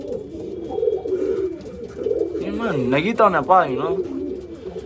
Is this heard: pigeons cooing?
yes